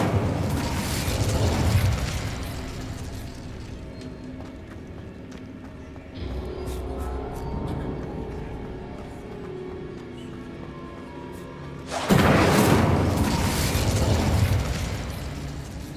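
Incendio fire spell cast in Hogwarts Legacy, a loud whooshing, crackling burst of flame that erupts near the start, dies back to quieter rumbling, then flares again loudly toward the end.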